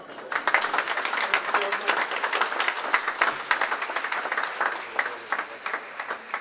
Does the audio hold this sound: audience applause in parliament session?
yes